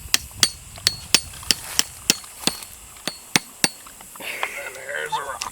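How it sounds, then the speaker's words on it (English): Outdoors during deer season preparations in Arkansas, a hammer drives stakes into the ground with about a dozen evenly spaced sharp blows, followed by faint voices talking at the end. "So there we were, nailing stakes into the ground."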